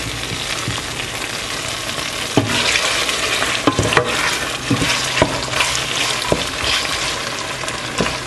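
Meat, smoked fish and tomato stew cooking in a pot, a steady sizzling bubble with occasional sharp clinks and stirring knocks, close and continuous with no talking.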